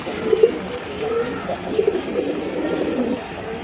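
Large Gopalganj pigeons kept in a loft coo in soft, low, repeated bursts at close range, with a faint murmur of background noise.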